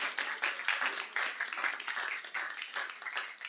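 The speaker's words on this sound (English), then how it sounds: "And you can clap for her because they're really good." A room of people at a school board meeting claps for an honored staff member, steady dense clapping at moderate level for a few seconds.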